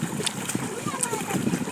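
Creek water splashes and churns around a swimming boy, short uneven splashes close by, mixed with voices of people talking at the water's edge.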